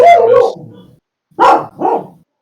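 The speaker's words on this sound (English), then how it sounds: "What kind of dog is that" A dog gives a few loud barks close by: a long opening bark, a pause, then two quick yaps, with no talk over them.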